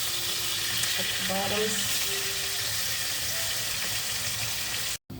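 Lemon chicken frying in a pan gives a steady sizzle across the whole stretch, with faint clinks of cookware and a brief spoken word partway through.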